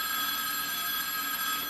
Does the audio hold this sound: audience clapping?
no